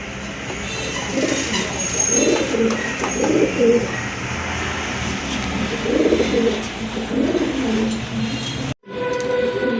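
A pair of pigeons coos in repeated soft, throaty phrases over a steady background hum, close by, with a brief dropout near the end.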